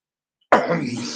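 After a brief silence, one harsh close-up cough bursts out and trails into a rough, throaty rasp.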